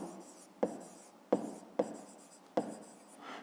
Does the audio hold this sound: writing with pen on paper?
yes